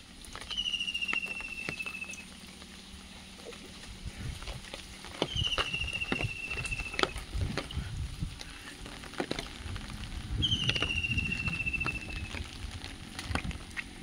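Rain patters steadily in a Bangladeshi village, a soft, close crackle of drops over faint background noise, with a high, thin call repeating three times at intervals; no one speaks.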